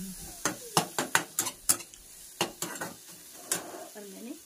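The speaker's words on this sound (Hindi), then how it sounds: "तो मैं ये मसाले डाल के भून रही हूँ" Spices frying in a pan for a cabbage Maggi dish, with a spoon scraping and clanking against the pan in a series of sharp strikes over a low sizzle, without speech.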